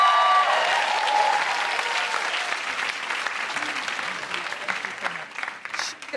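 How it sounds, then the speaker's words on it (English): Audience applause welcoming a comedian onstage at a comedy show, a loud sustained wave of clapping that tapers slightly near the end. "Please put your hands together for the incredible Sindhu Vee."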